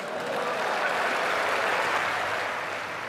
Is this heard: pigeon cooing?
no